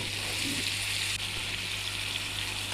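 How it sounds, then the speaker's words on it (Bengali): Steady sizzle of paneer frying in oil and butter, a continuous crackling hiss close to the pan with no voices over it. "আমি পনিরটা একটু হালকা ভেজে নেব"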